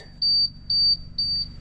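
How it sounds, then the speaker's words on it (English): A truck's low air pressure warning buzzer sounds three evenly spaced steady beeps, each about a quarter second long, clear and fairly loud over a low idling engine rumble. "until that low air buzzer goes off right there to your right"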